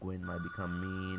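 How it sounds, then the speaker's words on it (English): A telephone rings with a steady electronic tone while someone talks over it, the ringing continuing throughout and fairly loud, nearly level with the voice. "I'm sorry, the phone was ringing, kind of distracted me."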